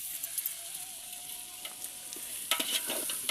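Masala for veg biryani being stirred in a hot pan, a continuous sizzle with scraping strokes that grow louder and more clattery toward the end.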